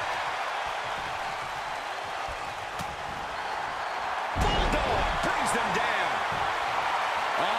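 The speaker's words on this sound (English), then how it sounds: "Hits him with a gut-wrench suplex." A gut-wrench suplex slam in the WWE 2K24 wrestling video game, with one heavy body impact landing midway over steady arena crowd noise and commentary.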